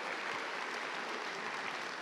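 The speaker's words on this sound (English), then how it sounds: "Let's give us a round of applause" Awards ceremony audience applauding bronze medal winners, a continuous hiss of many hands clapping at an even, moderately loud level throughout, with no voices on top.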